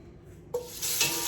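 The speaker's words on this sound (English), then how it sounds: "Nice sizzle." Short ribs hit hot olive oil in a Dutch oven and break into a sudden hiss of searing, a broad, loud sizzle that swells and holds.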